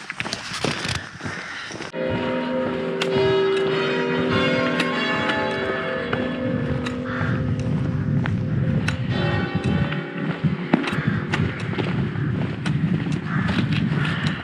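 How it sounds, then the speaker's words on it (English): Church bells ring on and on in a resonant, layered peal, with wind noise and footsteps around them outdoors. "the church bells started ringing"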